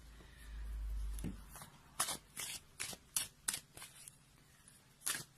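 Oracle cards are shuffled up close for a tarot reading: a soft riffle, then a string of crisp snapping slaps and flicks, with no talking.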